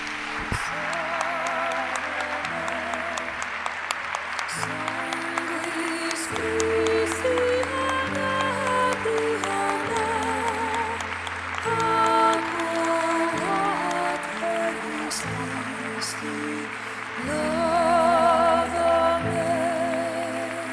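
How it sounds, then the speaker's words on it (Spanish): Loud, sustained applause from a large congress crowd, clapping steadily for about twenty seconds and swelling near the end, with background music underneath. "Vamos a darle un aplauso fuerte a Conchita de Garabandal."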